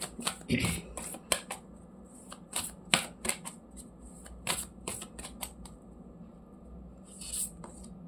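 A deck of oracle cards is shuffled by hand close up, giving irregular bursts of crisp riffling and slapping against a quiet background, with a few sharper snaps and short pauses between.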